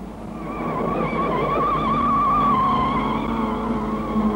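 Mini saloon cars racing through a corner at a 1963 British circuit meeting, engines droning loudly and steadily with wavering pitch as several cars pass close together, a continuous mechanical roar with no voices.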